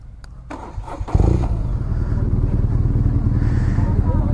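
A BMW R nineT motorcycle cranks briefly with a couple of clicks, then fires up and settles into a loud, steady, close idle.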